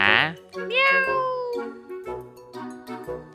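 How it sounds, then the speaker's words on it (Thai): A cat meows in loud, drawn-out cries, one after another at close range, the calls wavering and stretching. "แมวค่ะแมว"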